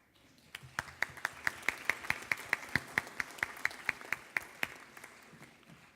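Rhythmic clapping from an audience before an architecture panel discussion, about twenty sharp, evenly spaced claps ringing out over a faint hum of the room and then stopping.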